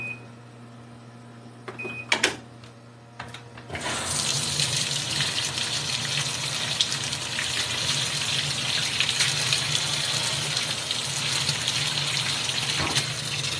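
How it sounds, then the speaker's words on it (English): Washing machine beginning to fill, a few clicks and short taps at first, then water gushing in steadily and loudly, a continuous close rush that holds to the end. "So, I guess we'll go ahead and start the washer."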